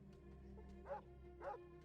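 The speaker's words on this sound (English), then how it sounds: "I heard the dog again." A dog barking in the Fallout 2 game: two short, faint barks about half a second apart, heard distantly over a low steady background hum.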